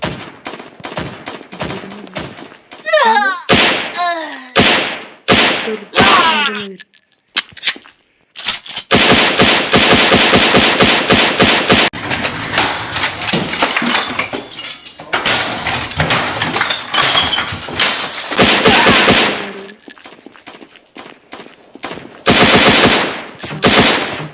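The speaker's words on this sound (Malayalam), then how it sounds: "ഇവരും തമ്മിൽ വേറെ ഒക്കെയാണ് വെടിക്കുന്നത്" Rapid bursts of automatic gunfire in a mobile shooting video game rattle loudly in long strings, with single shots, brief pauses and a metallic ricochet-like whine among the volleys.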